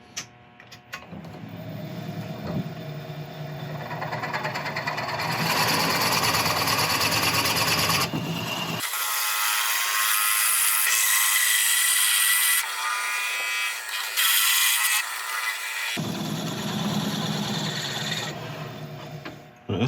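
A Forstner bit bores into a Swedish torch log, a heavy grinding, rasping drone that runs steadily and loud, cutting out to a thinner, high whine midway before the deeper cutting returns.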